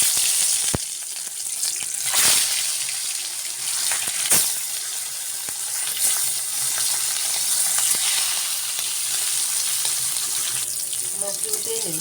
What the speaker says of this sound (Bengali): মাছ ভাজবো, তেল দিয়ে দিলাম